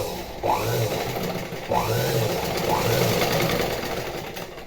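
Sewing machine stitching two fabric pieces together for fine thread piping on a normal presser foot, running in three steady motor bursts with brief pauses, close and alone.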